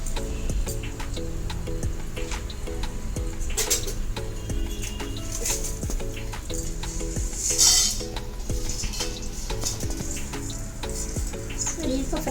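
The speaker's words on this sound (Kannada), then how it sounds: "ಇವಾಗ ಸ್ವಲ್ಪ ಎಣ್ಣೆ ಹಾಕಿ ಫ್ರೈ ಮಾಡ್ಕೊಳ್ಳಿ." Ginger, cinnamon, bay leaf, pepper, coriander and cumin fry in oil for kadale saaru, giving a steady close sizzle throughout, with occasional stirring scrapes and light clinks of a utensil against the pan.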